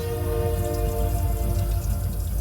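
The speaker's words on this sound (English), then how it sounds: "And if you can hear that, that's the train going by." A heavy, continuous rumble of a passing train with sustained tonal hum, steady and fairly loud throughout.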